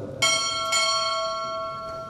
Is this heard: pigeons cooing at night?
no